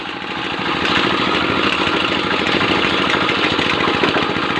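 A motorcycle engine running steadily while riding slowly at night through rural farmland, a loud, close, continuous low throb with a rapid even pulse and no pauses.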